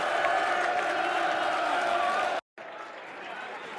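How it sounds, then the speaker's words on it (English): Fans at Millwall's home match against Stoke City applaud and roar as a player leaves on a substitution, a broad, sustained stadium wash of clapping and crowd noise that cuts out briefly, then returns more subdued. "Good applause for him."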